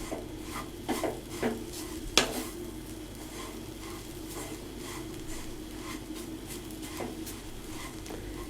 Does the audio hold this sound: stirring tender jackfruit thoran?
yes